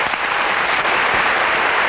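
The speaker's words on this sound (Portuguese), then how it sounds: "Podem bater palmas para o Rafael?" Studio audience at a Brazilian live television reality show, Casa dos Artistas, applauding together in a dense, steady wash of clapping that fills the whole moment at even loudness.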